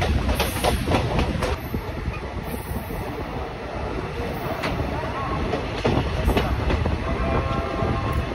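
Haldibari Superfast Express rolling toward Malda Town, with a steady, loud rumble of wheels on rails and a faint clatter, heard from inside the moving train.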